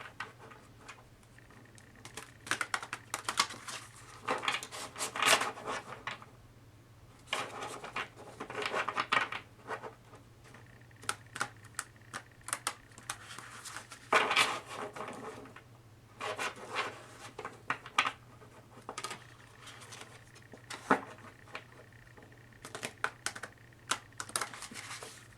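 Soft papery flicking and riffling of tarot cards being shuffled, coming in irregular bursts with short pauses, close by over a steady low hum, no talking.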